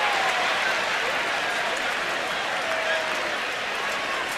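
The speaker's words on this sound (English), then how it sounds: "the fans now are cheering on the Seagull" Baseball fans at Camden Yards, Baltimore, cheer and clap in a steady, dense roar from a large stadium crowd, with no break in the noise.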